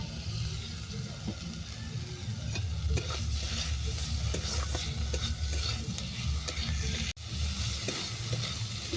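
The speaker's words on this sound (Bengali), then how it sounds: "ইলিশ মাছটাকে আরও 2 মিনিট ভেজে নেওয়ার পর দেবো বেসন।" Boiled hilsa fish and vegetables fry in a pan with a continuous close sizzle and hiss, broken by stirring scrapes and a brief sharp knock near the end, with no talking.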